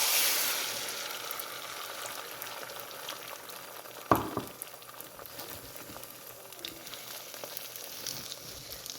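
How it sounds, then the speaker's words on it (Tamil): Egg frying in oil for Sri Lankan yellow puttu, a soft, quiet crackling sizzle that runs throughout, with one sharp utensil clank partway through. "பாருங்கோ, முட்டை பொரியுது."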